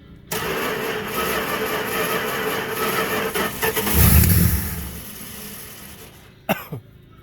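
A 1964 Plymouth Belvedere with a 318 V8 and a smashed, broken exhaust runs loud and rough for about six seconds, swells in a rev near the middle, then cuts out, followed by a couple of sharp knocks.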